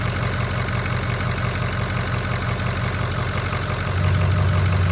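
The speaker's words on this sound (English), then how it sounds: "Just let it idle a little bit." A Ford 6.0 Powerstroke diesel idles in a steady, loud, close rumble with an even knocking pulse. The tone deepens into a heavier hum near the end, and no one speaks.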